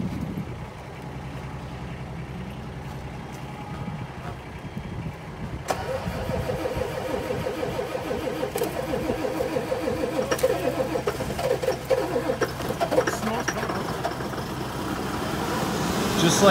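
John Deere 6155R tractor diesel engine cold-starting at around zero degrees after sitting unused for a month: a cranking start that catches abruptly and settles into a loud, steady, rumbling idle close by, with no talking.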